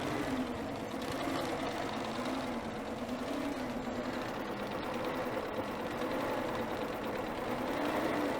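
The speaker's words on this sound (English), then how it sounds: "I'm just going to tell it to go ahead and sew out the rest of the design" A Bernina B990 sewing machine stitches out an embroidery design with a faint, continuous, even whirr and fine rapid needle chatter.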